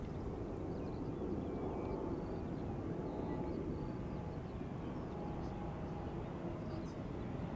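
A 23-year-old Airbus A321 jet, first flown in June 2000, rumbles steadily at an airport in a broad low drone, continuous and fairly distant for the whole stretch, with no clear voices.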